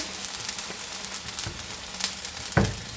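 A fish sauce with spring onion and white pepper bubbles and sizzles steadily in a pan, with a few soft clinks and one louder knock near the end.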